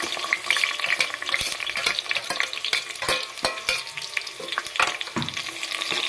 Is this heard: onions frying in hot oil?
yes